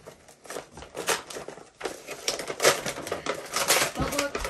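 Cardboard mystery box of sports memorabilia being torn open by hand, tape ripping with dense crackling, crinkling bursts in quick irregular runs, close and fairly loud, under speech.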